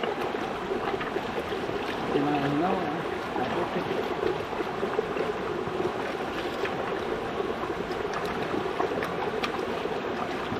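High, fast-flowing river water rushes steadily beside a house, a continuous broad wash at moderate level with someone speaking briefly over it.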